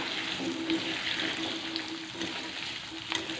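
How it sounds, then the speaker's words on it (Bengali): Potatoes frying in hot oil in a home kitchen, a steady close crackling sizzle that runs unbroken for a few seconds, with no voices. "আমি তো আলুটা লাল লাল করে ভাজি"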